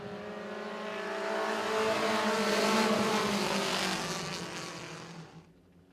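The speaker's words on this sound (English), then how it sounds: "Well, I'd say Mr. Puff got into the throttle a little early" Race cars at Baer Field Motorsports Park roar as they accelerate, a loud, sustained engine drone that swells and then fades away toward the end.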